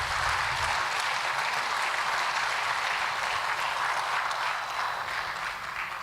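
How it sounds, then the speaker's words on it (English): Sustained audience applause following a dance troupe's performance at a company's second anniversary celebration, a full, continuous rush of many hands clapping in a large venue, holding steady throughout with no talking. "it definitely deserves a huge round of applause for Meera ma'am and her"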